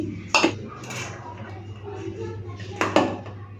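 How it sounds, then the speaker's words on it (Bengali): Rice being served from a pot onto plates at home, with two sharp metallic clanks of a spoon against the pot and dishes, separated by a quieter stretch of soft handling and faint background hum. "চলুন ভাতটা বেড়ে নিলাম"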